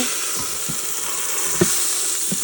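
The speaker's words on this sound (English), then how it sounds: "I'm just going to go ahead and saute that in my Instant Pot." Pot roast searing in an Instant Pot on saute, a steady, close sizzle and hiss of browning meat that runs throughout, with a few soft clicks and bumps from the pot.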